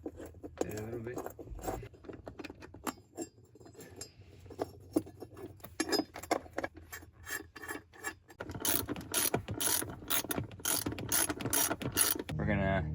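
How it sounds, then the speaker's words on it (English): A ratchet tightens the four strut bolts on a Falcon rally strut install, giving rapid clicking pawl runs in short repeated bursts that grow busier toward the end, close and loud, with speech in places. "We're gonna tighten down those 4 strut bolts to 21 foot-pounds."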